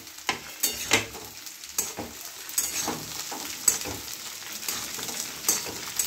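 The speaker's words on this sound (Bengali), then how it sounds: "আলুটা হালকা ভাজা হয়ে গেছে, এবার আমি বরবটিগুলো দিয়ে দেবো।" Yardlong beans tumble into potatoes frying in a pan, setting off a steady sizzle with several sharp scrapes and clatters of stirring over about six seconds, close and fairly loud, with no voices.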